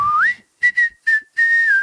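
A clear whistled melody from a pop song, a rising opening note followed by short bright phrases and a longer held tone, loud and up front with no voices.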